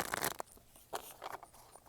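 Oracle cards are shuffled in quick, soft bursts of crisp rustling and riffling, close and fairly quiet, with brief pauses between the flicks.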